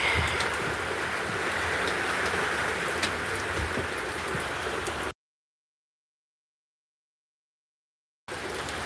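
Steady rain falls in North Georgia with a dense, even hiss, breaking into abrupt silence for a few seconds before the downpour sound returns.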